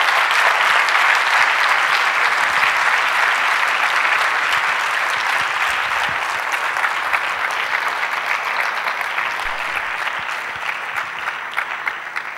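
Sustained audience applause following a speech, a dense, even wash of many hands clapping close by, holding steady for the whole stretch and easing off only slightly toward the end.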